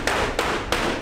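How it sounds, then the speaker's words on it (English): Aluminum car body panels being hammered into shape by hand, three sharp metallic strikes spaced evenly, loud and close with no talk. "the guys are hammering out the aluminum in the shapes necessary, hammer welding them together"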